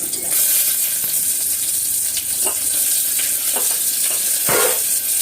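Oil spattering while frying, a steady loud hiss with scattered pops and crackles, including one stronger burst near the end.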